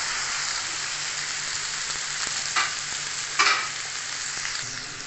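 Vegetables sizzle steadily in a hot pan for a potato tray bake, with a couple of brief stirring scrapes breaking through the constant close frying hiss.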